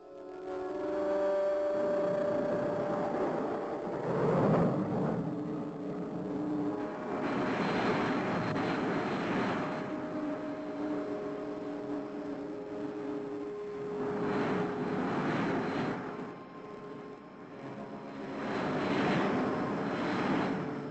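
Spacecraft engines on a landing approach in a cartoon, a droning, rumbling roar that swells and fades in several long waves, moderately loud and alone.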